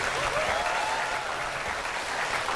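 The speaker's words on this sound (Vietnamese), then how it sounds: "Xin một tràng pháo tay cho hai chàng trai của chương trình ngày hôm nay." Studio audience on a Vietnamese TV matchmaking show gives a steady, dense round of applause for two young men, continuous and even throughout with no talk over it.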